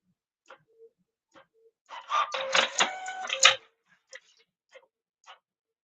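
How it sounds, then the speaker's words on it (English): A home printer finishes printing pages, with sparse ticks and clicks before a dense burst of whirring, chattering mechanical feed in the middle, then scattered small clicks as it winds down. "my printer's going to finish printing"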